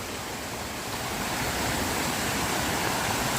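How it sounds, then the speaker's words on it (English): Laurel Creek, a fast-flowing mountain stream beside a hiking trail on the Appalachian Trail, rushes steadily and close by as a constant broadband roar with no voices. "Ooh, that stream sounds really close."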